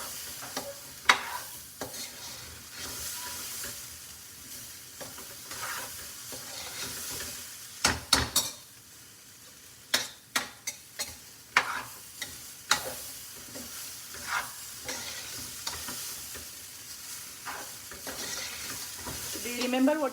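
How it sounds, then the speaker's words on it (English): A detox food mixture with pink salt added is stirred in a pan, giving a continuous sizzle with irregular sharp scrapes and clinks of the spoon against the pan, close and moderately loud with no talk. "and we will mix it very well"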